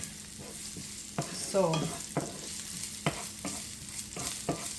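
Chopped onions sizzle in olive oil in a pan, with a spatula stirring and scraping in several sharp knocks over a steady frying hiss; a single short word is spoken near the start.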